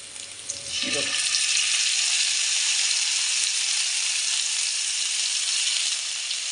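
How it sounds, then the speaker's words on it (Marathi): Mullet fish frying with garlic in hot oil on a medium flame, a loud steady sizzle that bursts in after a brief splash and holds continuously, with no talking. "आपण लसूण टाकूया आणि फिश फ्राय करायला घेऊया"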